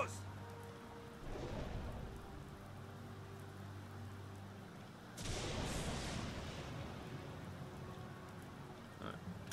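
Submarine torpedo tubes fire in the UBOAT video game as two muffled whooshing bursts about four seconds apart, each swelling then fading into a low background rumble.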